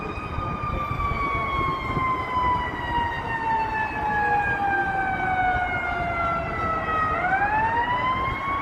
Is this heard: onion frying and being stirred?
no